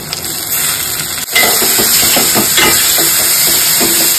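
Tomatoes go into a hot pan with onions for a vegetable dish, followed by a sharp jump to a loud, steady hiss and sizzle with a few light clinks.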